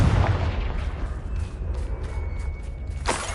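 A Confringo spell blast from Hogwarts Legacy lands as a heavy, rumbling boom, followed near the end by a second sharp burst, loud and with no talking.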